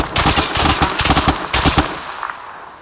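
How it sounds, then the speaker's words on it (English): Gunfire in the Arma 3 combat game, with sniper shots coming in among a burst of sharp, rapid cracks over the first two seconds before the sound tails off into quieter ambience. "I'm taking the sniper fire"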